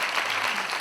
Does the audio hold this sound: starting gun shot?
no